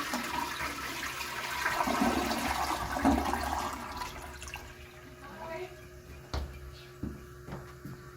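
A toilet flushes in a restroom at Wilson College's Edgar Hall in Chambersburg, Pennsylvania, giving a loud, close rush of water that fades into gurgling refill over several seconds, with people speaking briefly nearby.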